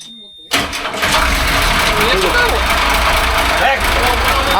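An outboard-style boat engine on a river is started directly at the starter, bypassing the key; after a brief quiet moment it catches suddenly and settles into a loud, steady running rumble while people talk nearby.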